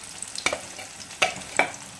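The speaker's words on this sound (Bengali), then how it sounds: "এটা 5 মিনিট লাগবে ভাজা হতে।" Fish roe bhujia fries in a pan with a soft background sizzle, broken by three sharp stirring scrapes and clatters against the pan.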